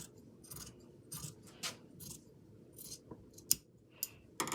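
Scissors snip through hand-woven cotton towel fabric in a quiet room, a handful of short, crisp cuts spaced irregularly, with the last few snips sharper and louder.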